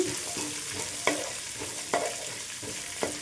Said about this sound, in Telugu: ఒక గుప్పెడు కరివేపాకు వేసుకోండి. ఈ మొత్తం కూడా మంచిగా వేగాలండి.